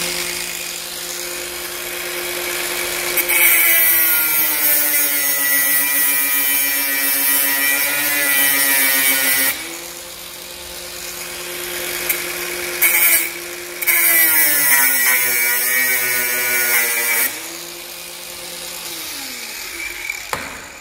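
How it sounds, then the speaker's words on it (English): An angle grinder cuts into the steel race of a car's front wheel bearing, a loud sustained high whine that drops in pitch under load and rises again in long continuous passes with brief pauses. "this is going to have the grinder on it"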